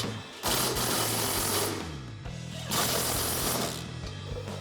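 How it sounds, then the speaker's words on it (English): An 18mm socket and wrench tighten the main mounting bracket bolts of a heavy-duty grille guard on a 2019-2021 Chevrolet Silverado 1500, giving two long bursts of dense ratcheting clicks with low mechanical hum, close and fairly loud, with no talking. "I'm gonna start on our main mounting bracket with an 18mm socket and wrench"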